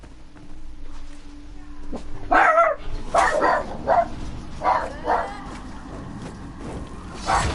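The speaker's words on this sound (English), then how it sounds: "Dogs were barking at something." Several dogs in an Elder Scrolls Online: Elsweyr game bark and yip in loud bursts over a few seconds, with steady game ambience underneath and occasional short gaps between the barks.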